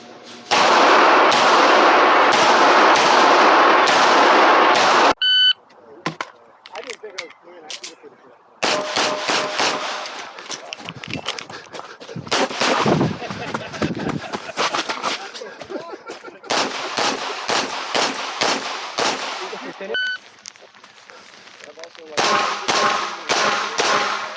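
Pistol shots at a practical shooting match stage, including a Wilson Combat 365 in .380, crack in rapid strings of sharp bursts, separated by quieter gaps with some background talk.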